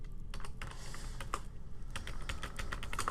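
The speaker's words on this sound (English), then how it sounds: "let me type username and type password, your password" Clicky keystrokes on a computer keyboard as a username and password are entered, irregular taps in quick clusters with short pauses, close and clear with no talking.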